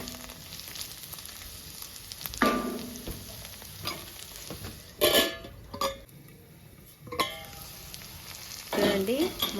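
Ivy gourd (dondakaya) pieces frying in a pan for roti chutney, a steady sizzle with periodic scraping and stirring bursts, close by, and a voice faint in the background.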